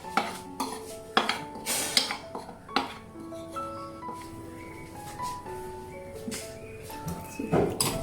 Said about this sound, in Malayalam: ഇതെല്ലാം കൂടി ഇട്ട് നന്നായിട്ടൊന്ന് മിക്സ് ചെയ്യണം